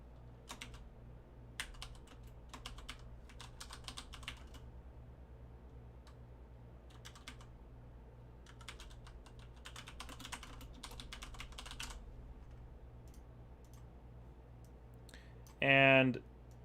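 Scattered bursts of clicking keystrokes on a computer keyboard, soft and close, recur in short runs separated by pauses over a low steady hum, with a brief louder noise near the end.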